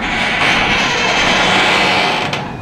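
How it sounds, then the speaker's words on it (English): A noisy garage door in need of repair, giving a continuous harsh grinding, rattling roar that holds steady for a couple of seconds, close and fairly loud with no talking. "Does your garage door sound like this?"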